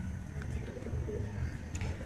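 Chinese Teddy pigeon cooing softly in a steady low murmur that runs throughout, close by, with a few faint chirps from other birds on top and no talk.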